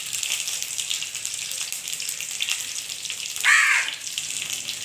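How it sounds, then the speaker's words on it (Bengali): Dried red chillies, green chillies and bay leaves hit hot oil in a pan, giving a steady, bright sizzle with a brief louder hiss burst partway through. "আমি এখন তুলে দিচ্ছি শুকনো লঙ্কা, কাঁচা লঙ্কা আর তেজপাতা, আর সঙ্গে দেবো পাঁচফোড়ন"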